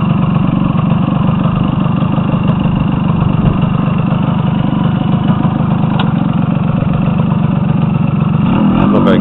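A Kawasaki KH two-stroke motorcycle runs loud and close throughout, its engine and exhaust idling with a rough, steady drone before revving up as it rides off at the end.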